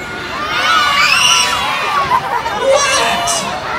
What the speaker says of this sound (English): you're cheering because it's Christmas